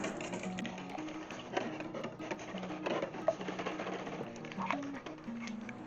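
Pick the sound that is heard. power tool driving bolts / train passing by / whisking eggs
whisking eggs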